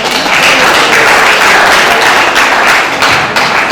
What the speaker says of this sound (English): Please, can we go after her to continue to clap for her till she's seated?